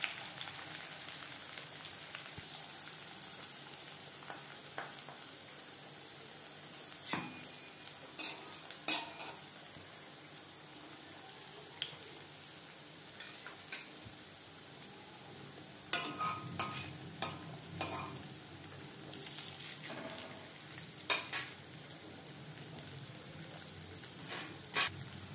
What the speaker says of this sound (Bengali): এবার দিয়ে দেব পাকোড়া। আমি শ্যালো ফ্রাই